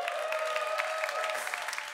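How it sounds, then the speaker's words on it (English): Comedy club audience applauding steadily at the Clapham Grand, a dense wash of clapping from a live crowd that holds at full strength and tails off only slightly near the end. "Please give it up for Kane Brown!"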